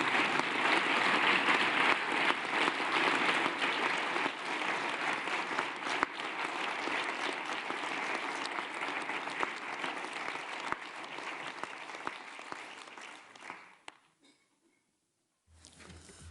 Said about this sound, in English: the applause that you received at the end